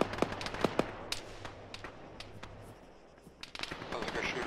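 Gunfire in the ArmA military simulation during a squad battle with tanks nearby: scattered sharp rifle shots and short bursts, some near and some distant, irregularly spaced over a background rumble.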